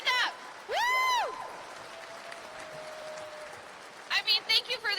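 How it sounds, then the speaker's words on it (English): Applause rises from the audience at the Century High School 2023 graduation ceremony, a steady patter of clapping broken by loud whooping calls and followed by a voice speaking. "thank you for the applause"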